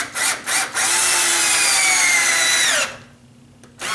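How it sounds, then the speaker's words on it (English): A power drill drives a wood screw into a wooden door frame in one steady whirring run of about two and a half seconds, after short starting bursts, then stops and leaves near silence. "that screw's driven right into there"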